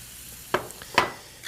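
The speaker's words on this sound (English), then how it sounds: "give it a final stir." A vegetarian scramble with cream and black pepper, just taken off the flame, gets two quick scraping stir strokes in the pan over a faint background sizzle, with no talking.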